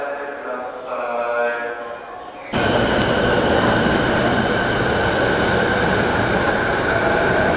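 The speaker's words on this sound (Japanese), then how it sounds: "京浜東北線の終電は1分遅れて今神田へ向かっていきました" The last Keihin-Tohoku Line commuter train of the night rumbles loudly out of a Tokyo station, its steady roar and rattle starting abruptly after a quieter stretch with faint voices and a brief whine.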